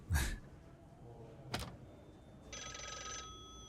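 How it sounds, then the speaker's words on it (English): In the Vaudeville video game a telephone bell rings once in a short burst near the end, after a dull thump and a sharp click, heard alone against a quiet room. "Someone keeps calling on the phone."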